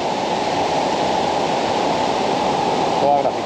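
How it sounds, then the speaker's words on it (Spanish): A polluted river flows past abandoned, graffiti-covered spa ruins, giving a steady, loud broadband rush of water throughout, close and continuous, with a faint brief tone near the end. "Y el río, miren, el río contaminado, amigos"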